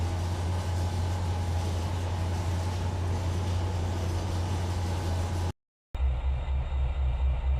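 A locomotive hauling a train in the Trainz 2022 simulator, gathering speed; a steady loud low rumble and broadband rolling roar runs continuously, cut by a brief gap of silence before resuming.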